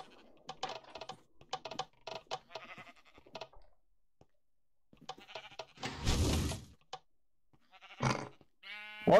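Several short sheep bleats sound in Minecraft, set between quick bursts of computer keyboard typing and clicks. The bleats come loud and close near the end.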